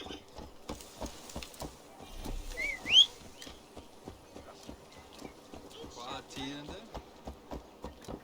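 A horse clip-clops at a steady trot under continuous talk while riding in an Assassin's Creed game, with a short whistle summoning it near the start.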